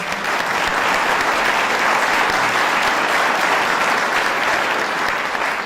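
An audience at the unveiling of former Governor Paterson's portrait in the Hall of Governors applauds Peter Kiernan, with loud, dense, sustained clapping that holds steady throughout.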